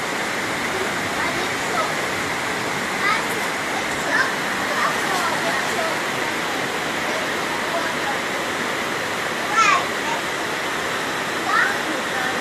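Floodwater rushes across a road in Jamaica with a steady, dense roar that never lets up, with occasional faint splashes and voices nearby.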